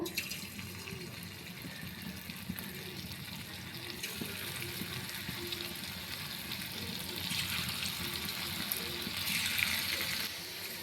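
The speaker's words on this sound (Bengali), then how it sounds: "চুচাগুলোকে আমি উল্টে পাল্টে লাল লাল করে ভাজবো।" Potato sticks frying in a wok of hot oil, a constant crackling hiss that swells a little louder toward the end.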